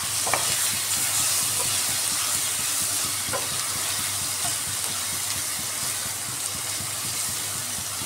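Eggs frying with onions in a pan for egg biryani, a steady continuous sizzle with occasional stirring clinks, no talking.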